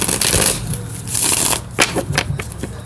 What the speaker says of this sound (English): Let's shuffle these cards real quick.